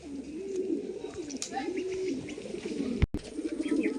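Big Kaldom pigeons cooing nearby, a run of low, throaty, rolling coos repeating over a few seconds, with a sharp knock partway through and faint background noise.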